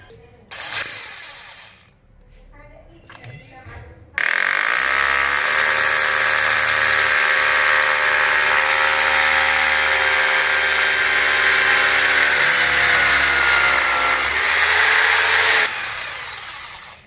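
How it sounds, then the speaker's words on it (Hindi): Power drill running steadily for about twelve seconds, loud and close, boring holes in the floor while staying flush to the ground, after brief quiet handling noises, then stopping. "अब ये 3 ड्रिल करके जमीन से चिपके रह के 3 ड्रिल करने हैं"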